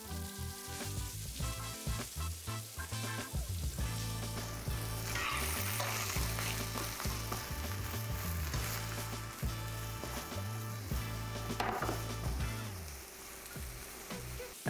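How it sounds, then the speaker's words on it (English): Mushrooms added to a hot pan, sizzling steadily with rhythmic scraping or stirring strokes on top, close and fairly quiet, continuing for many seconds without talking. "Then we're gonna add our mushrooms in while it's nice and hot."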